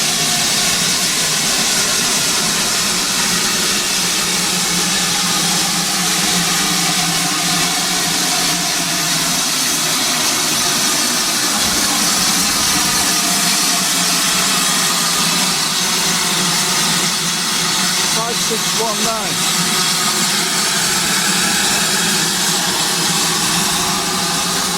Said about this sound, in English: this is the engine that's going to pull us on this short trip